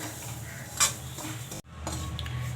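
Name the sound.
semolina roasting in ghee, stirred in a pan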